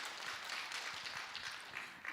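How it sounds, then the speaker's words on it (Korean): Audience applause at a Buddhist dharma talk Q&A session, a steady wash of many hands clapping that holds evenly for the whole stretch, fairly soft and diffuse. "박수로 맞으세요"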